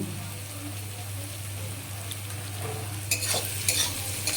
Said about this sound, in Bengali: পেঁয়াজগুলো আমার ভাজা হয়ে এসেছে